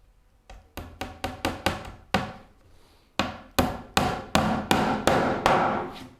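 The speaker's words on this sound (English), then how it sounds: "But a cross peen hammer is really useful for cut nails." A cross peen hammer drives cut nails into a wooden rolling cabinet base: eleven close, ringing strikes in two quick rhythmic bursts separated by a short pause, each blow loud and sharp with a brief decay.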